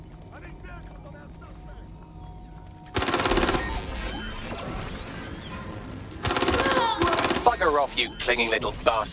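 Two loud bursts of automatic gunfire in the video game Watch Dogs: Legion, rapid crackling volleys, the second followed by scattered single shots, with voices speaking between and over the shooting.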